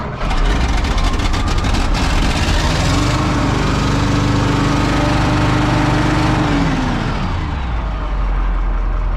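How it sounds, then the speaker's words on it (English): An old Detroit diesel engine cold starting and running, a loud, steady, rough rumble with a brief tonal whine rising and settling midway before the engine winds down near the end. "So- cold start. This is an old Detroit diesel, Bruce is."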